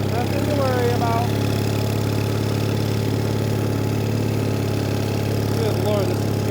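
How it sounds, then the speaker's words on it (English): An old Case trencher's engine runs at a steady, loud idle close by, a constant low rumble with brief bits of talk over it near the start and end. "Just driving a trencher."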